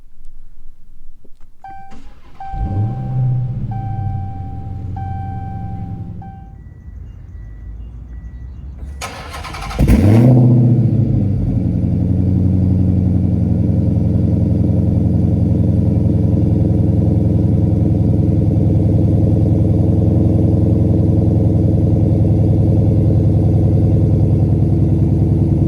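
A 2022 Dodge Challenger Hellcat Redeye cranks over with a whirring starter, falls quiet, then cranks again and fires with a loud roar before settling into a deep, rumbling idle that holds steady nearby.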